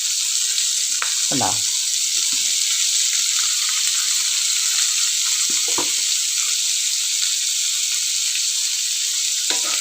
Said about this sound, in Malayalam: അതിലേക്ക് തക്കാളി ഇട്ടു, പച്ചമുളക്, വേപ്പില